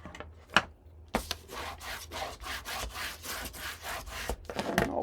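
Paper on a scrapbook album is burnished with a tool, making a quick series of close, dry rubbing strokes in an even back-and-forth rhythm.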